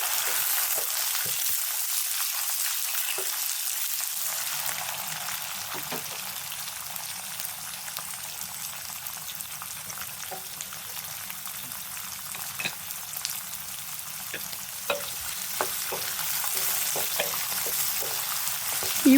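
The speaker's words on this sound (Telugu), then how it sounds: "ఇప్పుడు మనం కట్ చేసి పెట్టుకున్నాం కదా, ఈ కట్ చేసి పెట్టుకున్న వాక్కాయలను వేసుకోవాలి." Cut vakkaya berries frying with green chillies in a pan, a dense, steady hiss of hot oil sizzling close up with a few soft stirring clicks and pops, no voices.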